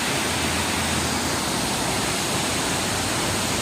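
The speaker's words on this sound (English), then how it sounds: "And now there's the next waterfall." A large waterfall swollen by a Memorial Day weekend storm roars as a steady, dense broadband rush, loud and unbroken throughout with no other sounds standing out.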